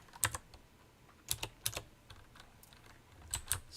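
Typing on a computer keyboard in a quiet room: short clusters of crisp, close key clicks separated by pauses, faint and alone without speech.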